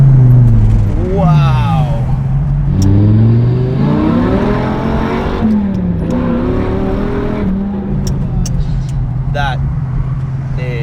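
A V10-swapped Honda S2000 on 335-width triple-R tires accelerates hard, its engine note sweeping up through the gears, loud and close from inside the car while people talk and exclaim over it.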